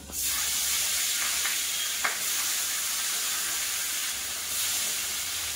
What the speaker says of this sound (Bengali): বাকি মাছগুলো তেলের মধ্যে দেবো।